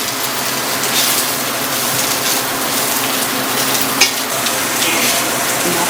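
Steady, close frying sizzle from a pan of pointed gourd and prawns after water is added, a continuous hiss with light stirring scrapes and one brief clink.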